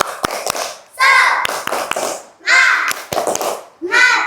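A third-grade class claps a rhythmic spirit clap in sharp, quick hand claps alternating with children chanting in unison, loud and close in the classroom.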